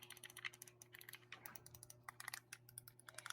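The buttons on an EasySMX S15 Joy-Con controller for Nintendo Switch click in rapid, uneven bursts, soft and close, with a faint steady hum in the background.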